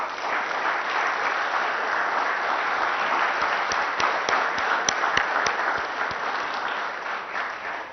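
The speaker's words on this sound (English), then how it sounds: "Ladies and gentlemen, please give these champions a big round of applause." Sustained, dense applause from a large audience fills a formal awards evening honouring champions, steady and even throughout with a few sharper individual claps standing out near the middle.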